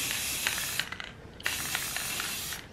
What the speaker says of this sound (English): I just sprayed some on the side there